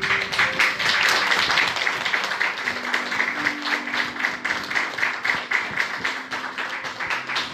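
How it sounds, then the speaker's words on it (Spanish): A church congregation claps in dense, sustained applause that stays loud for several seconds before thinning slightly, with a faint tone underneath. "Denle un aplauso a Jesucristo."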